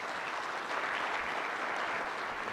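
Audience applause at a town council inaugural meeting, steady clapping from a crowd filling the room and holding at an even level to the end.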